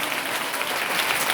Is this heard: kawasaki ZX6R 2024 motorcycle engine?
no